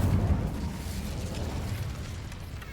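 Incendio fire spell cast in Hogwarts Legacy, a muffled low whoosh and burst at the start that trails into a steady, moderately quiet crackling rumble.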